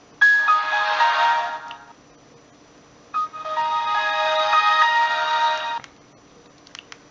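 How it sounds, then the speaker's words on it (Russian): A downloaded polyphonic ringtone plays on a Siemens CT65 mobile phone, two bright melodic bursts of a couple of seconds each separated by a short pause, moderately loud with a few faint clicks afterward. "А есть рингтоны, которые я закачивал."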